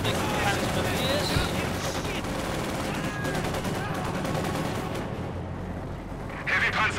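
Dense, continuous battle noise from Company of Heroes 2, with rattling gunfire and rumbling artillery-like blasts layered together and no clear gaps, under a speaking voice.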